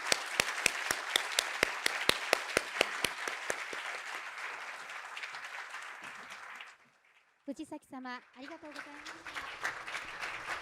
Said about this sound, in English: let us give her a big applause